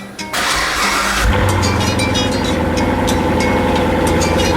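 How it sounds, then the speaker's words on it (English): A Chevrolet C7 Corvette V8 engine with factory exhaust cranks and fires up close by, then settles into a loud, deep, rumbling idle. "Even though the C7 has a nice little rumble with the factory exhaust"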